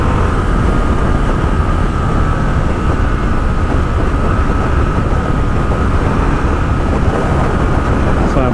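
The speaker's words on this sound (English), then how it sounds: "As I'm jerking my throttle back and forth." A motorcycle engine drones loud and steady close by as the rider rides on a downhill curve, with a continuous rough rumble and no clear pauses.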